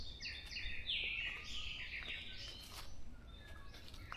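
Wild birds in a forest on Bongseosan in Korea chirp and tweet in quick bright trills, several calls overlapping, faint and somewhat distant against quiet woodland ambience.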